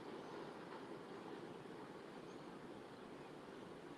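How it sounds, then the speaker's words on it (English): Sea waves wash steadily onto the shore in early morning near coastal scrub, a faint, continuous broadband rush with no distinct breaks and no voices. "you can probably already hear the sound of the sea"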